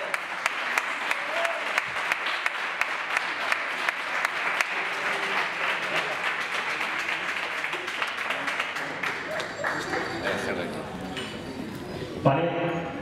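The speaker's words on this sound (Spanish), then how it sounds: "Un aplauso muy fuerte." Loud, sustained applause from a dinner crowd at a memorial gala, dense clapping running steadily for about twelve seconds before a brief louder burst near the end, with a voice faintly audible underneath.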